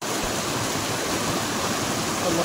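A river flowing in the Konkan countryside near Ratnagiri at dusk, a steady broadband rush of moving water that holds an even level throughout, close and continuous with no voices.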